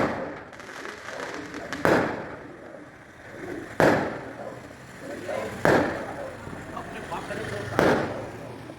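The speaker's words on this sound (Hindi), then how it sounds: "इतने पटाखे, इतनी लाइटें सब जगह जल रही हैं।" Firecrackers going off during Diwali celebrations, four sharp booming bursts spaced about two seconds apart, with a murmur of background voices and activity in between.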